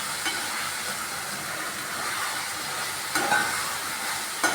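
Lentil fritters (dal bora) sizzle and crackle steadily in hot oil, a continuous close frying hiss with a few brief louder spits and no talking.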